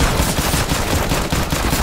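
Rapid pistol gunfire in a video game, a loud continuous burst of dense, overlapping shots with no talk.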